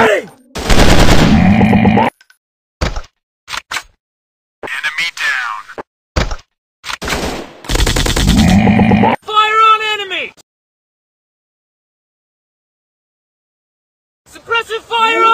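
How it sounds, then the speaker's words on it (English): Rapid bursts of automatic suppressive gunfire from a commando-style first-person shooter game, loud and dense, broken by short gaps with in-game voice callouts and a brief quiet stretch before firing resumes. "Suppressive fire on target!"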